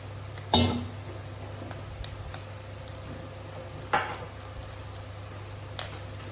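Eggplant simmering in a pan with a little added water gives a soft, steady sizzle and bubble, broken by two brief utensil clinks against the pan, with no voices.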